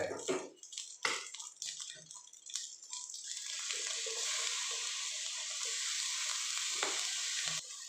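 Lava egg fried rice sizzles hard as it's stir-fried with dark soy sauce, a few sharp scrapes and stirs at first, then a loud, steady frying hiss that holds to the end.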